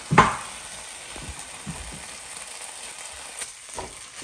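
Butter and garlic powder fry in a pan with a soft, steady sizzle, punctuated by a sharp crackle at the start and occasional light stirring scrapes.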